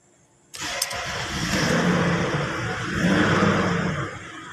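A Mercedes-Benz S320 engine cranks and fires after a short silence, then settles into a steady, fairly loud idle with a slight rise in revs, heard close with no talk.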